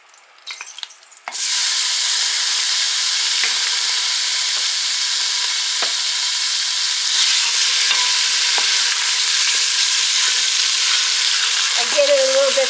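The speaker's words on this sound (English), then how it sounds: "I have 1 pound of hamburger here that I'm going to start frying up." A pound of hamburger meat hits a hot Instant Pot after a brief handling noise, then sizzles loudly and steadily, with occasional stirring scrapes and clinks near the end.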